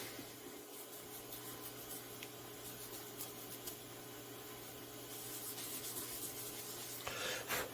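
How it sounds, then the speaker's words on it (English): A Scotch-Brite pad rubs over a milled metal block to deburr its edges and corners, giving a soft, continuous scrubbing hiss, quiet and close, with no talk. "and then Scotch-Brite it. I want it to be burr-free."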